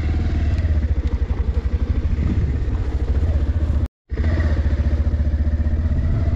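A motorcycle rides over a rough village road in Baksa, Bodoland, its engine pulsing loudly and continuously up close with rattling clatter, broken by a brief cut of silence midway.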